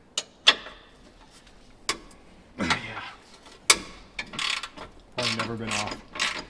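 Ratchet wrench loosening a 22 mm transmission mount bolt on a Ferrari 360 during a major service, sharp clicking bursts spaced across several seconds, close by, with brief speech between them.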